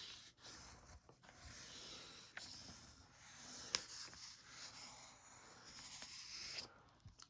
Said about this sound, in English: I'm going to use a brown color pencil for my brown skin.